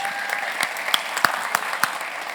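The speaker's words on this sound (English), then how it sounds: "Give yourself a round of applause." Live podcast audience clapping, a brief dense patter of applause with a few sharper individual claps standing out, moderately close and steady for a couple of seconds.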